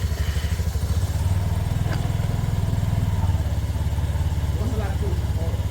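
A Lexmoto Diablo motorcycle engine idles with a steady, pulsing low chug, close and constant, while people talk nearby.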